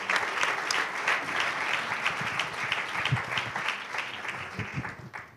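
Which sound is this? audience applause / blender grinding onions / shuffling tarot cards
audience applause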